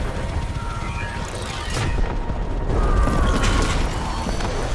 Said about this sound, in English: Take him out with the main gun again.